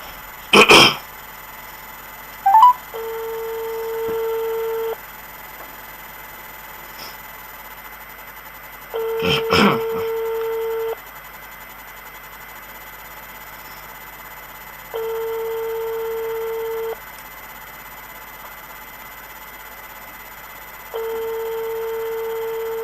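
A telephone ringback tone sounds as an outgoing call waits to connect: four steady two-second tones with long gaps between them, preceded by a throat clearing and a sneeze nearby.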